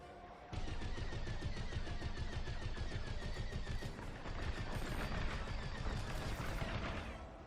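Rapid, continuous bursts of automatic weapon fire from a video game, loud and dense, running steadily for several seconds with a brief dip midway.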